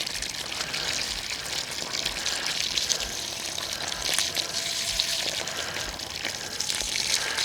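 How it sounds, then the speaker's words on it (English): Water runs steadily from a hose onto the base of an orchard tree, a continuous hissing gush at moderate level, even throughout with no talking. "see how long it's taken to water one of these trees"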